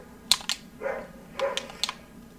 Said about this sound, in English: there's a neighbor dog outside